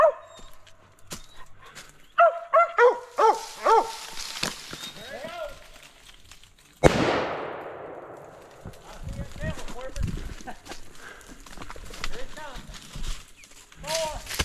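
Mountain cur dogs barking on a woodland squirrel hunt, a burst of sharp, repeated barks up close followed by a loud crash and scattered yips and whimpers.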